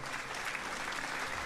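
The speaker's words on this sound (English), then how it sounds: "The audience claps again" Audience applause from the game Cinderella Phenomenon, a steady dense wash of many hands clapping at moderate volume with no voices over it.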